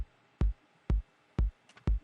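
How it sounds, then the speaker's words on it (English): A basic kick drum played in FL Studio strikes four times in an even, steady rhythm, each hit a punchy low thump with a short decay, alone with no voices. "So this is just a basic kick, as you can hear."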